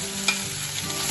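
Salt, green chilli and lentils hitting hot oil in a pan, a steady loud sizzle with a brief stirring scrape, no voices.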